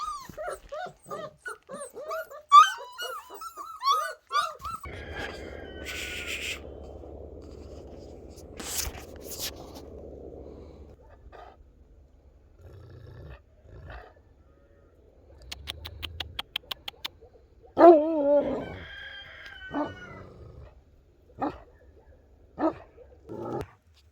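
A giant new puppy barks in scattered bursts with some whining, close but fairly quiet, interspersed with rustling, handling noises and quiet stretches.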